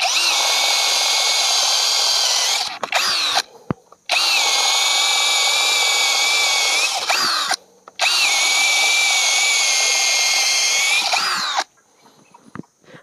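IMAX IMCD-20BL cordless drill boring holes in three long, loud bursts of high steady whine, each running several seconds, with brief pauses between and a short tail at the end.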